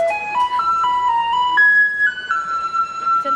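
A Taiwanese garbage truck plays its bright electronic jingle on a street in Kaohsiung, a clear stepwise melody of sustained tones, fairly loud and continuous with no speech over it.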